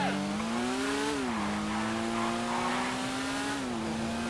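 A new motorbike in GTA Online revs with a steady engine drone whose pitch climbs, dips and then holds, and a second rise comes near the end. The sound is close and continuous, with no talk over it.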